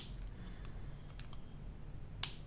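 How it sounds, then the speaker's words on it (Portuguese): Crochet yarn cut with scissors, a few soft snips and clicks over a faint low hum, with one sharper snip near the end; no voices. "Vou cortar aqui a linha"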